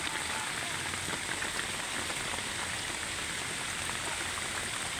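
Steady, dense rain pattering on a market vendors' shelter, a continuous hiss with no voices.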